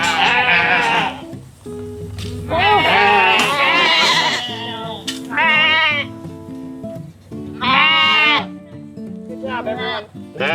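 Sheep raised for 4-H showing bleat repeatedly on a farm, loud close calls overlapping one another in several bursts through the stretch, with no talk.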